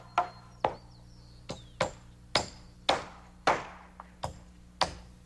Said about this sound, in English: nails his end to a ceiling joist, and the same on the other side